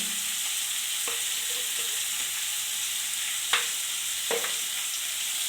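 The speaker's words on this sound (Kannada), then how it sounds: "1 ಈರುಳ್ಳಿ ಹಾಕೊಂಡು ಸ್ವಲ್ಪ ಹಾಗೆ ಫ್ರೈ ಮಾಡಿ." Onion frying with salt in a pan for dal fry, a steady close sizzle with occasional spatula scrapes and clinks against the pan, no talking.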